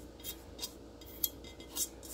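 A spoon scrapes turkey meatloaf mix out of a cooking pot in a home kitchen, giving several faint, brief metallic scrapes and clinks at irregular intervals, with one sharper click near the middle.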